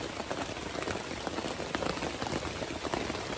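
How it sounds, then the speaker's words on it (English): Rain falls on a tent in the woods with a steady, dense patter of drops, close and fairly loud, continuous throughout with no voices. "It's going to be the rain. I already think it's going to come through."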